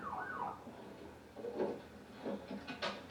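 An ambulance siren wails as the emergency vehicle arrives at a park scene, a rising and falling tone that is moderately loud up close, with other noise around it.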